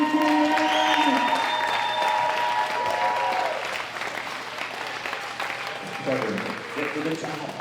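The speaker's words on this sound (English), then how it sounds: "Big round of applause, United States of America, Jennifer" A crowd at a world classic powerlifting championship applauds and cheers a returning world champion, a strong sustained burst of clapping with voices and cheers mixed in that eases somewhat toward the end.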